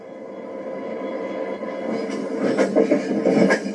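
Union Pacific 3985, a steam locomotive, pulls out of Denver Union Station in 1993 with a steady low rumble. Rhythmic chuffs and clanks grow louder toward the end as the train gathers way.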